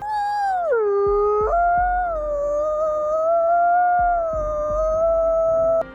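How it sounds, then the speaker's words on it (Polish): Wolves of a pack howl in winter, a long sustained wavering howl gliding down and back up with overlapping voices and a few short yips, steady and fairly close throughout. "Wilki wyją zimą, gdy liczba członków stada osiąga maksimum."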